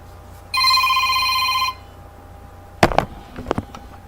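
A telephone rings once in a steady electronic burst lasting about a second, then stops, followed by a few scattered knocks and handling sounds in a quiet room.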